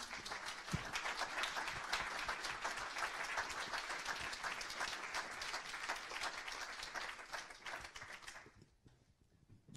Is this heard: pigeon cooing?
no